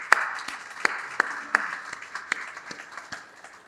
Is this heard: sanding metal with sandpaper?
no